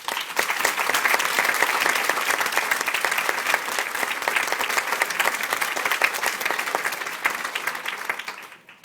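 A rally crowd applauds loudly and continuously at a women's rally, with dense clapping sustained for several seconds before it tapers off near the end.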